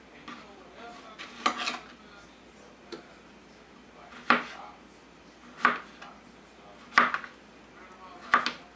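A knife chops through vegetables such as zucchini and squash on a cutting board in a home kitchen, giving several sharp, separate knocks spaced a second or more apart, close by and fairly quiet.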